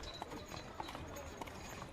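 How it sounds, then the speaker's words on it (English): A horse pulling a cart on a street in 1920s Beijing, its hooves giving faint, distant clip-clops at an uneven pace over a soft background hiss. "And you've got your horse and cart."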